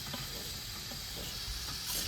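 Potatoes drop into hot oil seasoned with turmeric and coriander-cumin powder, frying on a stove inside a vehicle; a close, continuous soft sizzle and hiss runs throughout with no talk.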